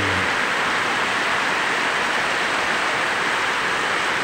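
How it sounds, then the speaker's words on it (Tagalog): Heavy rain from a low pressure system pours down steadily in the Bicol region, a loud unbroken roar with no voices. "Ayan po, napakalakas po ng ulan."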